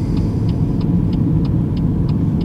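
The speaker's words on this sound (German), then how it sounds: "Jetzt gib Gas. Nutze den Beschleunigungsstreifen." A car accelerating along a motorway on-ramp during a driving lesson, with a loud, steady engine and road rumble from inside the cabin and a regular ticking throughout.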